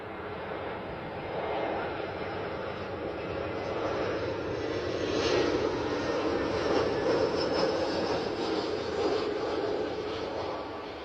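An EasyJet airliner bound for Copenhagen at Bristol Airport, a broad steady jet roar that swells and holds loud across the whole stretch, heard from outdoors.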